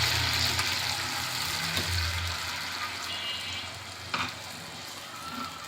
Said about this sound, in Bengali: যখন এই ডালটা নিয়ে আপনি এই কড়াইয়ের মধ্যে দিয়ে দিবেন